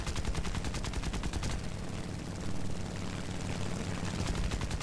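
Rapid bursts of 7.7mm machine gun fire from a Japanese navy fighter aimed at an Allied aircraft in War Thunder arcade air combat, loud, sustained chatter over a droning engine roar.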